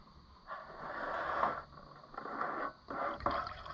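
Water runs in steady bursts from a White 4-180 tractor, starting and stopping a few times, with a hissing, splashing flow close by.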